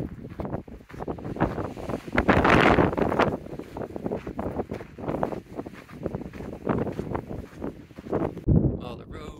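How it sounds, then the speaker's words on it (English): Warm desert wind near Fremont Peak gusts and buffets against the microphone in uneven bursts, loud and close, with a voice talking briefly over it. "It's warm, windy."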